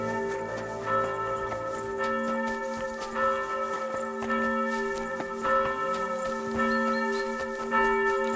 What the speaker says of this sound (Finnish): Sillä kirkonkellon soittajalla joku kohtaus päällä.